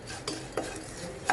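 Lump asafoetida fries with rice flour in a pan on a low flame, a faint continuous sizzle broken by three quick scraping stirs of a spoon, close and quiet, without speech.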